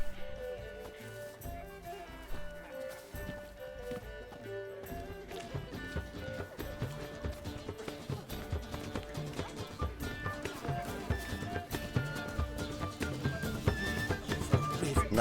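A horse gallops in The Witcher 3, its steady clip-clop hoofbeats running throughout under game music and ambient sound, growing slightly louder toward the end.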